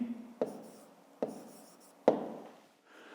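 A pen writes on paper in three short, distinct scratches spaced about a second apart, close and quiet against near silence.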